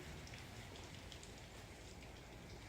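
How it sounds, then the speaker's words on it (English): Steady rain falls outside a garage, a soft, even hiss that stays faint and unbroken throughout, with no voices. "rainy day, very rainy"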